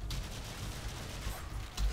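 Pistol gunfire in the video game Warframe, a rapid string of close, sharp shots over a dense rumbling game soundtrack, with no talking.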